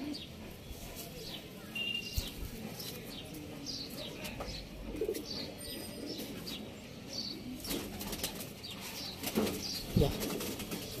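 Racing pigeons, a prize-winning long-flight loft, coo and flap their wings close by, with scattered soft chirps over a steady rustling background.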